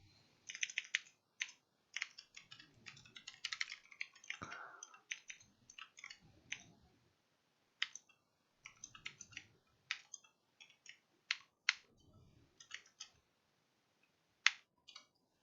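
Computer keyboard typing while code is being written, a fast run of crisp key clicks in bursts separated by short pauses, close and clear with no talk.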